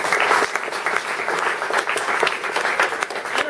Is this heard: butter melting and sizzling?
no